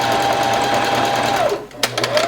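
A sewing machine stitches swimsuit fabric in a steady, fast whirring run, pauses briefly to reverse, then stitches back in short bursts, close and loud with no talk over it.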